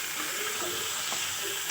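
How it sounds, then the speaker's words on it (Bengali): Chopped vegetables, including ridge gourd and unripe home-grown tomatoes, sauté in a pan for a light fish curry, giving a steady soft sizzle and hiss with a brief clatter near the end, no talking. "এবার আমি কেটে রাখা এই যে সবজিগুলো দিয়ে কষিয়ে নেব"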